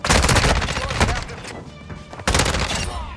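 Rapid bursts of ISO assault rifle fire in Modern Warfare 2, loud and close, in two clusters separated by a brief lull, with faint game sounds between.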